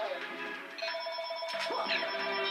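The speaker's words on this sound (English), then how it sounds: "That's not my phone, it's my home phone." A home landline telephone rings with repeated electronic trills, moderately loud and close, while someone talks over it and video game sounds play in the background.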